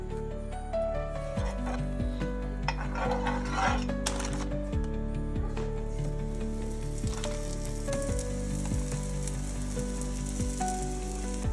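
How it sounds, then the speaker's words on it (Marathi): Sweet potato nevryo, stuffed sweet pastries, frying in ghee in a pan over a low flame, with a steady soft sizzle running throughout and occasional light clinks of a utensil against the pan. "आता आमी त्यो भाजून घेवया."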